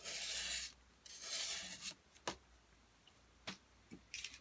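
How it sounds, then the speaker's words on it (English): Sandpaper rubbing over a knife blade during final polishing, the paper gumming up; quiet broadband rasping strokes in two longer passes, then a few short scattered scrapes and taps. "So I'm just doing the final polish on this beauty."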